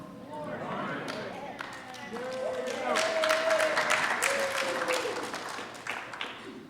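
Congregation applause fills a Sunday worship service, a broad wash of clapping that swells in the middle and holds steady before easing slightly, with a faint tonal ring beneath it.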